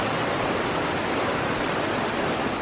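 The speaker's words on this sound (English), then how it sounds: "Here's a waterfall over there." A steady, full roar of a waterfall near Tegallalang and Gunung Kawi in Bali, broad and unbroken, filling the whole stretch at an even loudness.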